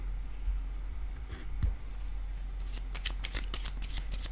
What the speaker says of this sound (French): Ici, je vais déposer une carte.